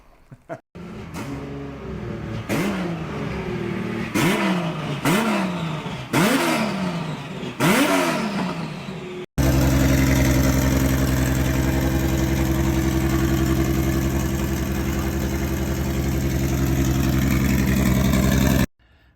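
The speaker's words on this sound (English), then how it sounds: "we can't really get too crazy revving this thing and warming it up" A race car engine, just fired up for the first time, revs in several sharp bursts, then settles into a loud, steady, close-up run as it warms up.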